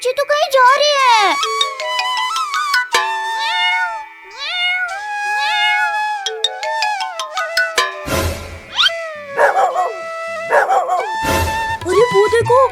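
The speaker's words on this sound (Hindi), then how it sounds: "वहाँ एक कुत्ता एक बिल्ली को परेशान कर रहा है" Cartoon dog barks and yips at a cartoon cat that meows back, a loud, busy exchange of animated animal voices with music-like tonal cries, childlike voices joining in.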